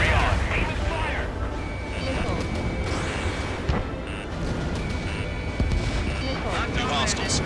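Gunfire and explosions from the Ace Combat 7: Skies Unknown flight combat video game, a dense continuous barrage of bursts and booms, loud throughout, under radio chatter and voices.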